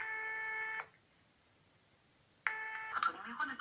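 A telephone call to the police: a steady ringback tone, a pause, a second ring, then a recorded voice begins speaking over the line.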